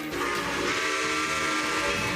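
A steam train whistle blows in one long, steady, loud blast over a rushing rail rumble.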